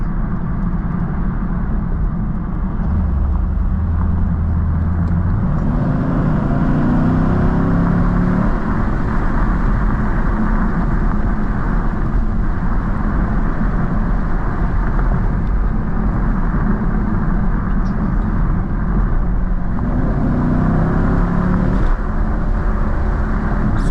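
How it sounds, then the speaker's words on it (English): A 2018 Chevrolet Camaro SS V8 engine rumbles steadily and loudly, with repeated revs rising and falling in pitch over a deep exhaust drone. "Let's try to give you the soundtrack of the exhaust."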